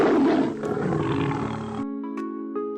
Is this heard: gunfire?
no